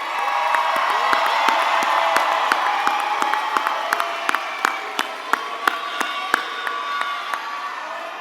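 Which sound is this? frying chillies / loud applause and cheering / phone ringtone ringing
loud applause and cheering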